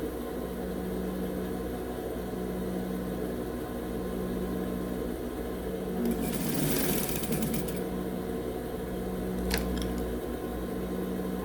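A sewing machine runs a short backstitch at the end of a seam while sewing a simple drawstring bag, its steady low motor whir holding close throughout with a brief busier burst midway.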